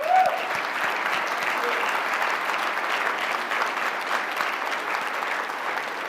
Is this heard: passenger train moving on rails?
no